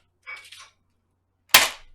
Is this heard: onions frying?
no